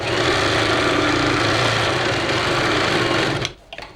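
A sewing machine stitches a silk pattu pavadai skirt with a fast, steady mechanical whir that runs close and loud for about three seconds, then stops abruptly.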